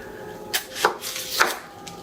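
A big onion being chopped with a knife on a cutting board, a few separate crisp cuts spaced irregularly, close and clear with no talk.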